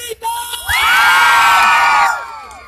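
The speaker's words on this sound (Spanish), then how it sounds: "¡Aplauso y grito!" A crowd gathered around street clowns at Alameda Central, Mexico City, roars with shouts, whoops and applause. The loud, dense burst swells after a brief lead-in, holds steady for over a second, then fades.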